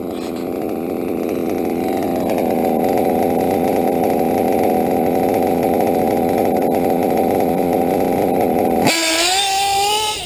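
A loud engine with a rich box tune idles with a low, steady rumble and slight wavering for several seconds, blowing smoke, then cuts to a higher, revving whine near the end.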